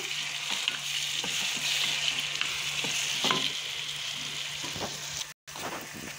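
Blended tomatoes and garlic paste frying in a pan for a taro curry, with a close, continuous sizzle and frequent scraping stirs, and a brief cut to silence near the end.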